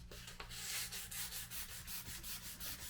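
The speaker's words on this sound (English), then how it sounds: "I'm going to sand that off" Sandpaper rubs back and forth on a Telecaster guitar neck in steady, rhythmic strokes, about a dozen close, even scrapes with no talking.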